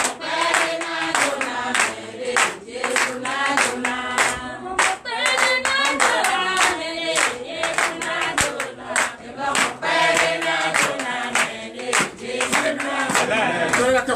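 A church congregation at a Sunday service in Benin claps for Jesus, loud rhythmic hand claps in a steady beat with many people together, voices cheering and singing over the clapping.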